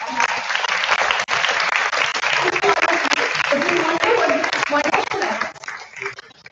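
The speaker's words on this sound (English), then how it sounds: "A round of applause for all the actors." Audience at a psychological well-being workshop and seminar applauds the actors with loud, dense clapping that fades near the end, while voices murmur faintly beneath.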